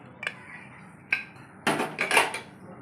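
A pressure cooker lid being opened after steaming fish: a few faint metallic clicks followed by a brief, louder clatter and scrape of the lid coming free, close and quiet otherwise.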